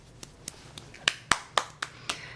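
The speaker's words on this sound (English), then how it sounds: "Simon Says, clap your hands." A young child claps hands during a game of Simon Says at home, giving about eight sharp claps in an uneven rhythm, softer at first and then louder and closer.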